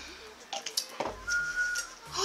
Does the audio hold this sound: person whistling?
yes